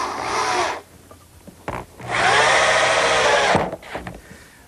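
A power drill drives 2.5-inch screws into the wooden frame of a dovecote in two loud whirring bursts, each ending as the screw seats, with quiet handling between.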